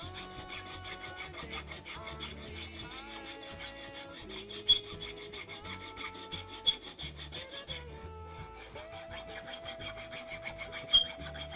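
Repeated rasping strokes of a small file scrape against wood in a steady back-and-forth rhythm, fairly quiet and close, with no speech.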